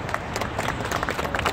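Short burst of crowd applause at an outdoor ceremony marking the completed East River Esplanade renovation, dense steady clapping from a gathered audience with no pauses.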